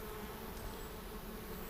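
Honeybees from a package colony swarm around the hive entrance in summer, giving a steady, close, continuous buzz with no one talking.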